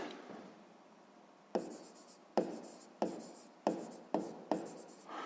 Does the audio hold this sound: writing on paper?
yes